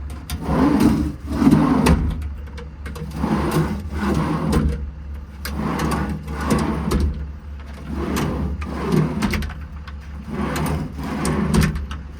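Repeated sliding and knocking as a 2017 Peterbilt 337 truck's body storage drawers are pulled open and pushed shut several times in a row, close by with a low hum underneath.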